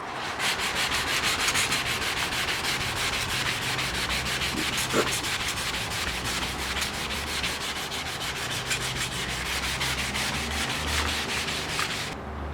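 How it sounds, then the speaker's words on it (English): Steady rhythmic scraping of a long sanding block with 400-grit paper worked back and forth over a wet surface during rust repair, close up and continuous, with no voices. "This is 400 grit on the big longer block. I'm doing it wet again"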